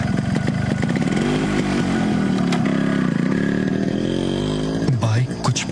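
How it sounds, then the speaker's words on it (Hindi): A motorcycle engine revving and droning steadily, loud and close, then fading as it pulls away into the dark, with a rising whine near the end. "बाइक कुछ पलों में ही अंधेरे में खो गई।"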